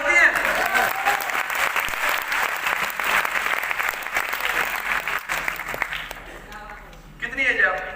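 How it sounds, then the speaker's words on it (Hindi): A workshop audience in a hall breaks into loud, sustained applause that fades near the end as a voice resumes talking over it. "इनके लिए तालियां हो सकती हैं।"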